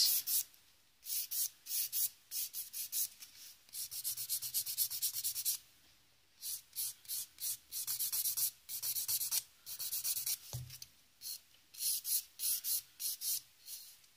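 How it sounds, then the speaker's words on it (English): Gel nails are filed with the 180 grit side of a nail file, a close, soft scratchy rasping in quick repeated strokes separated by short pauses. "I'm going to use my 180 grit side of the file and come up each side"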